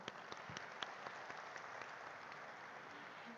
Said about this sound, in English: May we have a round of applause.